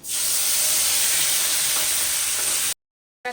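Spiced batter hits hot oil already seasoned with bay leaf, dried chilli and five-spice seeds, giving a loud, steady, close sizzle that runs unbroken before cutting off abruptly, then a brief faint return.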